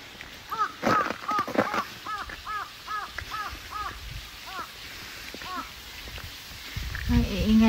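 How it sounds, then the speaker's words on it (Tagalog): Several crows caw repeatedly, close by, in quick clusters of harsh calls over faint outdoor background noise near an apartment. "Ang iingay ng mga uwak."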